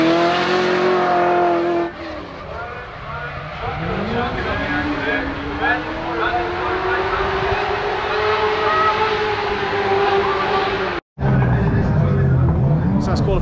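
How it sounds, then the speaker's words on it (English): Drift car warming up at the Brands Hatch circuit, engine droning and rising in pitch with long sustained revs, a brief cut near the end before the loud roar resumes. "we're going to start getting the car warmed up now"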